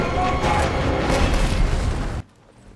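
A grenade explodes in a film scene, a loud broad roaring blast that holds for about two seconds and then cuts off abruptly into quiet.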